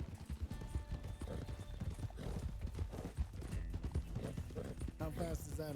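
Rhythmic hoofbeats clip-clop steadily over background game music in Red Dead Redemption 2, with a horse whinnying near the end.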